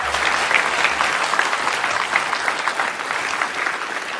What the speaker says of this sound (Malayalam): ഒടുവിൽ അയാൾ ജീവിതത്തിലേക്ക് തിരിച്ചു വരുമ്പോൾ നിറഞ്ഞ കയ്യടികളോടെ വരവേറ്റു സദസ്സ്